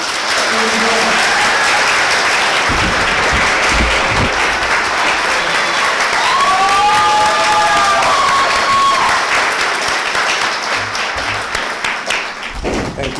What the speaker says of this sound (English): So let's just give them another round of applause.